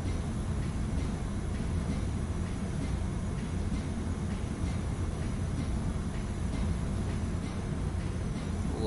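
A train running in Train Sim World, a steady low rumble of wheels and engine with faint rhythmic rail clicks, continuous and unbroken.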